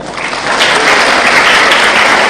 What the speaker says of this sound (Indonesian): anak muda begini ini bagus, tepuk tangan dulu